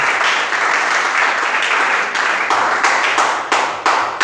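A church congregation applauds steadily and loudly, a dense wash of clapping with rhythmic swells and sharp accented claps, continuous throughout without speech.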